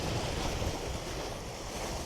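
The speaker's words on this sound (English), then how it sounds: "that wind is horrendous" Strong wind blasting across a rocky seashore while mackerel fishing on the Isle of Man, a constant roaring rush over the microphone with surf noise mixed in, steady and loud throughout.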